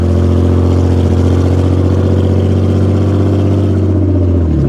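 A loud 1998 Audi A6 Avant engine roars steadily as it accelerates, its pitch rising and dropping briefly near the end as a gear shifts, with no talking.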